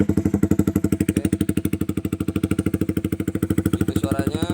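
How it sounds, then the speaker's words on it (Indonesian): Honda CB200R motorcycle engine idling close by with a steady, even low putter after starting, a brief rev near the end, with faint talk underneath. "Start engine."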